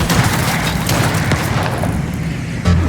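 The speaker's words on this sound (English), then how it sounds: "Being attacked! Enemy artillery!" Heavy enemy artillery explosions in the Cyberpunk 2077 DLC, a continuous rumbling barrage of booms and blasts with a sharp burst near the end, loud and close.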